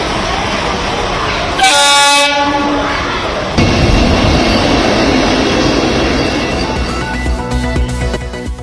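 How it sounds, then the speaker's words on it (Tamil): A Vande Metro train on a trial run between Chennai Beach and Walajabad sounds a loud, steady horn blast, then rumbles past close by with continuous wheel and rail noise. "சென்னை கடற்கரை பாலாஜாபாத் இடையே வந்தே மெட்ரோ ரயில் சோதனை ஓட்டம்."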